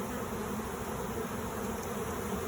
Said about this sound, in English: They're honeybees.